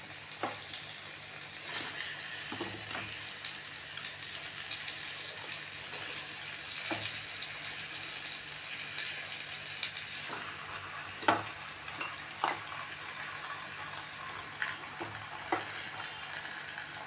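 Country chicken fries in masala in a pan for a varuval, giving a steady close sizzle throughout. Occasional sharp clicks and scrapes break through, like stirring against the pan.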